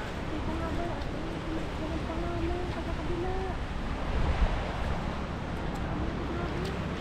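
Sea waves washing at the shore beside a boat, a broad steady surf roar with wind buffeting the microphone and a low rumble that swells briefly midway; faint voice-like tones drift underneath.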